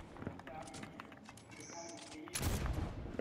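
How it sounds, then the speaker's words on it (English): A flint pistol fired in Fortnite gives a sharp, loud blast near the end, after quieter game noises and scattered faint pops. "load my flint pistol."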